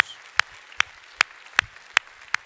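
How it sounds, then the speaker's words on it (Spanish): A church congregation at a Sunday worship service claps in unison, six sharp, evenly spaced claps in a steady beat with quiet room tone between them. "Démosle un aplauso al Señor, mis hermanos"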